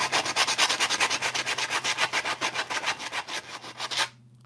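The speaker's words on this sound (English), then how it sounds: "and just kind of sand it down." Sanding the side edge of a wooden skateboard deck by hand, a quick steady rhythm of raspy strokes, close and clear, roughly a dozen back-and-forth rubs before stopping abruptly.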